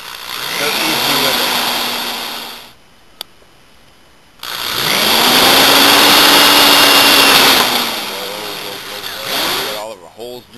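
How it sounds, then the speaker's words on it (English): A power drill bores holes in a bamboo Native American style flute, its loud motor whine rising and falling in two long bursts with a brief pause between. "Got all of our holes drilled in there."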